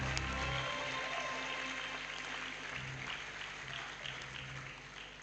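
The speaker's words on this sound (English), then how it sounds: "Let's give all of them a round of applause." A university matriculation ceremony audience applauds, with steady, continuous clapping from a large hall crowd over a low hum, fading slightly toward the end.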